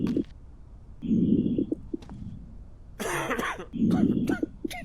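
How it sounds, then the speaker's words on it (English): Character in a quarantine zone video game coughing, several rough hacking bursts close by, with a low cooing sound and clicks between them. "Why you got cough too, brother?"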